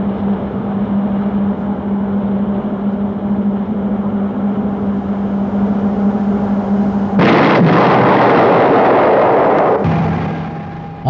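A 24-ton Bradley armored vehicle launches a wire-guided anti-tank missile: a steady engine hum gives way to a sudden loud roaring whoosh that sustains for a few seconds, then fades back to the hum.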